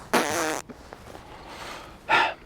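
A short, loud, buzzy fart sound effect plays near, then a brief quiet stretch, followed by a second shorter burst.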